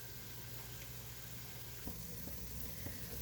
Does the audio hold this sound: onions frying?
yes